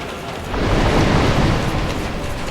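A barrage of water missiles striking in Dark Souls, heard as a deep, roaring, rumbling wash that swells after half a second and holds loud and dense, like a sustained splashing explosion.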